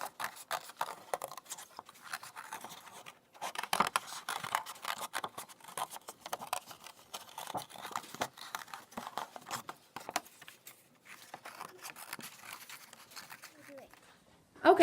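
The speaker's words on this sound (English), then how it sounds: "now I'm going to really carefully cut on these lines." Scissors cutting carefully along drawn lines: quiet, close snips and crisp paper rustles in a steady, uneven rhythm, with short pauses between cuts.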